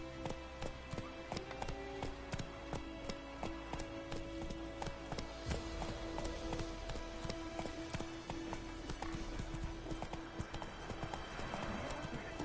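Roach the horse gallops in The Witcher III, a rapid, steady clip-clop of hooves that stays close and loud for the whole stretch, with a brief snort or whinny mixed in and no talk.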